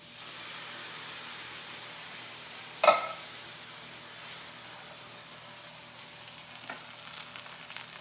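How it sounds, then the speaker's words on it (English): A pan hisses with a soft, steady sizzle before diced Italian-style tomatoes go in, broken by one sharp clink early on and a few faint clicks later. "Now I hear that sizzling"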